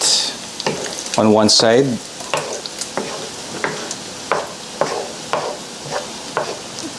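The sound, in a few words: beef tapa meat frying and being moved in a pan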